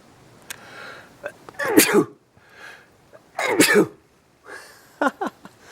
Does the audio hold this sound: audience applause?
no